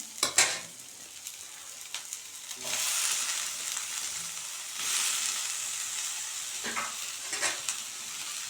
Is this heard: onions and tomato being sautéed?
yes